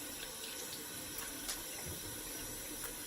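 A bathroom tap runs steadily while shaving gear is rinsed, a soft continuous hiss of flowing water with faint splashes, quiet and close.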